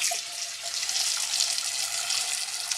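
Tap water runs steadily into a pan in a kitchen sink, a continuous close hiss and splash of filling water with no talk, left over from making sunflower seed brittle.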